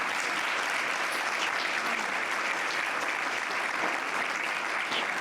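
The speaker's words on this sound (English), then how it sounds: "So I want to get another round of applause," An audience gives a round of applause for the board chairs at a school's State of the School event, a dense, steady clapping that stays loud and even throughout, with no talk over it.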